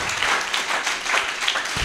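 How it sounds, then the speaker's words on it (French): A short burst of steady applause from a crowd at a church gathering in praise of Jesus, loud and continuous for under two seconds with no talk over it. "Applaudissons un peu Jésus notre roi."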